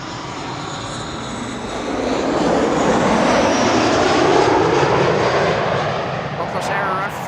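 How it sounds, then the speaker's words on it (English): An airliner flies past at Amsterdam Schiphol Airport, its engine roar swelling to a loud broad rumble midway and easing off slightly toward the end, heard alone without talk. "left flight 1616 is passing by over here. You'll pick up the sound in a moment."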